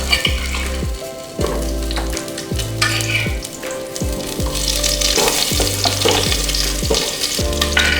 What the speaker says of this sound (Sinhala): කරලා මේ අල ඉස්සෙල්ලා කපාගත්ත අල ටික බැදගෙන ඉන්න ඕන